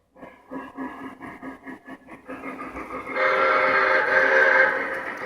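Model train starting up: a run of rhythmic clanks as the couplers tighten, with a bell ringing over them, then a loud sustained whistle blast, close and clear.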